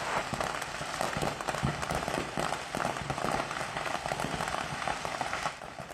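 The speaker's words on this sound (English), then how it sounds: "Hundreds of fireworks exploding in every single direction." A burning fireworks stand in Oklahoma sets off hundreds of fireworks in dense, rapid crackling bursts and pops, loud and continuous, like a hail of firecrackers.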